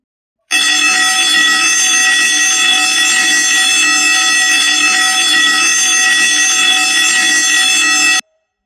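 An alarm set off by a fire-detection program blares as one continuous, loud, harsh buzzing tone that holds for about eight seconds and then cuts off abruptly, with no voices.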